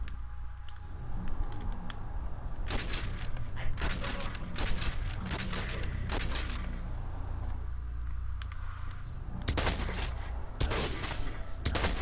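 Shotgun blasts and other gunfire in the Saints Row video game, a string of sharp bursts clustered at intervals over a steady game backdrop, with people talking throughout.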